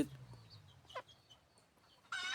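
A hen gives short clucks and a rising cackle on a farm, heard close but fairly faint over a quiet background, ending with a brief burst of louder noise.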